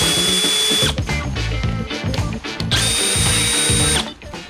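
A PUMA PM-245BL cordless drill whirs in two long, loud bursts, its motor pitch straining as it drives a screw, with a brief pause between.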